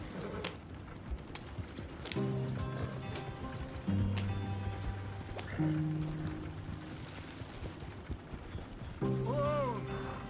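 Horse in Red Dead Redemption 2 galloping with rhythmic clip-clop hoofbeats, broken by several loud whinnies and snorts, the hooves steady underneath throughout.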